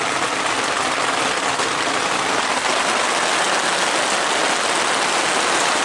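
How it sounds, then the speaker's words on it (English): Heavy rain falls hard and steady outdoors around a 1987 Four Winns 195 Sundowner boat under restoration, a loud, dense, unbroken roar with no pauses or voices. "It's really raining now."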